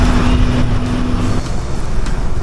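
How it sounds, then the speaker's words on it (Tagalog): Cars and trucks on a road pass close to a roadside house, a loud continuous rumble with engine drone and a brief tonal hum that fades midway, without speech. "dito sa umaga maririnig mo yung mga nag-grass cutter, mga sasakyan dahil tabing kalsada kami."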